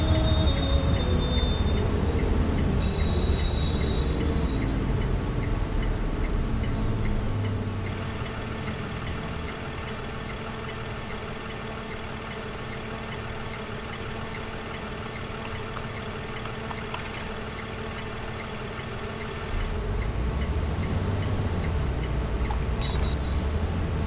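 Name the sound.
vehicle idling at a traffic light, then pulling in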